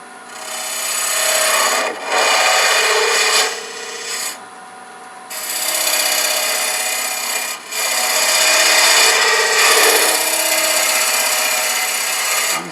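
A Lyle Jamieson hollowing tool cuts into spinning wood on a lathe with a loud, close, rasping scrape that runs in long passes and stops briefly between cuts, with no voices.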